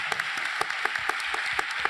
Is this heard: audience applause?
yes